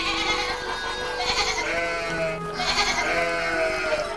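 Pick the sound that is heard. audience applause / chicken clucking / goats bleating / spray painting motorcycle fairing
goats bleating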